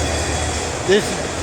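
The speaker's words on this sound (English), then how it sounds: "Here comes it. This is the end of the train." Freight train with no caboose rolling past on a railroad track, a steady nearby rumble of cars with a faint wheel squeal, while someone talks over it.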